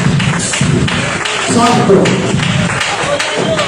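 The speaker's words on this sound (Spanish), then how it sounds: "denle un aplauso a Dios" A church congregation claps during a Spanish-language evangelistic service, with quick uneven hand claps and taps that come close and loud, mixed with voices calling out.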